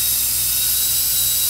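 An air-driven dental handpiece burr running under foot-pedal control, a steady high-pitched whine with a low hum beneath it, loud and close and unbroken through the short stretch.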